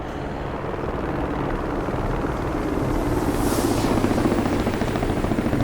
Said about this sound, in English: Love the sounds of the rotor and the engines in this helicopter